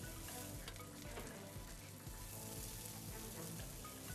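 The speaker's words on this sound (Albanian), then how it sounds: "Së pari, sardelet skuqen derisa të jenë ngjyrë të artë." Sardines frying in a pan until golden, a steady dense crackle and sizzle of hot oil that carries on evenly throughout, fairly quiet and with no voices.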